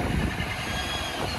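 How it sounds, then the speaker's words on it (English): A car engine idling at a steady, even rumble, close and continuous throughout with no voices over it. "Engine's been running since the start of the video"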